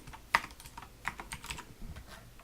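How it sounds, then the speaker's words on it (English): Computer keyboard typing while writing code in Unity: a steady patter of close, crisp keystrokes with a sharp first hit, continuing evenly with no voice. "So now we need to type file stream."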